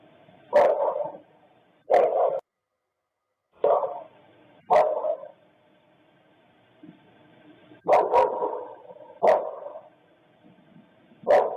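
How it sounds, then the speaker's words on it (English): A dog barks repeatedly in short, loud bursts spaced a second or two apart, with a brief quiet gap midway. "I don't think that was Murphy barking."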